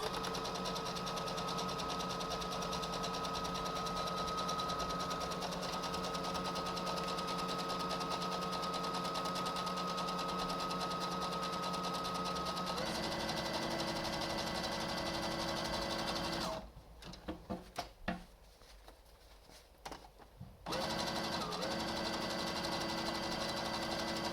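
A sewing machine runs steadily, zigzag stitching the straight edges of three fabric layers for a cloth face mask, with a brief pause near the end before the motor resumes.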